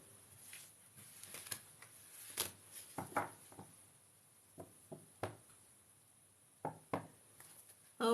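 Tarot cards being shuffled for a reading, faint scattered riffles and soft taps against a quiet room, irregular short bursts with pauses between them.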